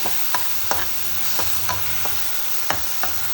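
Crushed onion, garlic and ginger sauté in hot oil for a sardine curry. A continuous loud sizzle is broken by regular scraping taps of stirring, with no voices.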